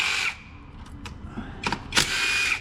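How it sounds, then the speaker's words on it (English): A power drill unbolts ignition coils on a Hyundai 2.4 engine, giving two short close whirring bursts at the start and end with brief clicks and rattles between them. "unbolt the ignition coils,"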